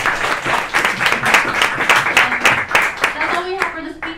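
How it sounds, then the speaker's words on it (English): An audience at a podcast event claps for four speakers, a loud burst of close, crisp handclaps that thins out toward the end as a voice starts speaking over it. "Let me get one more round of applause for our 4 speakers."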